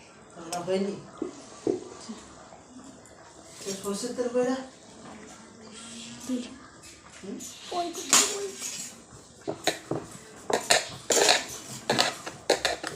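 Cut new potatoes go into a pot of boiling chicken curry, giving clattering, scraping metal pot and utensil sounds in quick bursts, while a person talks throughout.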